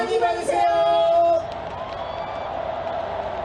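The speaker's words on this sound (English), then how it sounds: "there are people here cheering and wishing each other a Happy New Year" Crowd at the Bosingak bell New Year celebration, with loud voiced whoops and cheers for about a second and a half, then settling into a lower, continuous crowd murmur.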